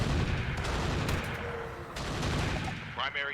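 An airstrike hitting enemy units in the mech strategy game RogueTech Flashpoint, loud overlapping explosions and rapid gunfire-like bursts rumbling continuously, ending with a few sharper impacts.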